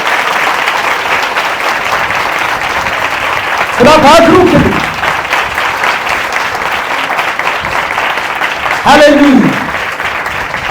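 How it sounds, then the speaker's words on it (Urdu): Church congregation giving loud applause during a Christian worship service, two bursts of clapping breaking in over a preacher's ongoing voice. "آئیے یسوع مسیح کے لیے زوردار تالی ہے۔"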